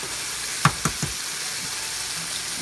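Eggs sizzle steadily in a pan already holding nopales, a soft constant hiss with a few sharp knocks and taps near the start, and no voices.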